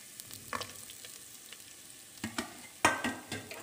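Chopped garlic frying in a pan, with a steady low sizzle and a few scattered scraping or stirring clicks that get louder toward the end.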